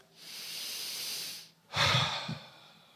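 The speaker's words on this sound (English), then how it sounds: "take another real breath." A deep inhale drawn in steadily through the mouth for over a second, then a brief pause and a louder, breathy exhale with a soft catch near its end, close and alone.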